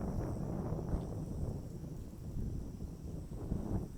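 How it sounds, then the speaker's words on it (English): Wind blowing outdoors, a steady broadband rumble and buffeting against the microphone that swells slightly in gusts throughout, with no voices. "The wind is picking up."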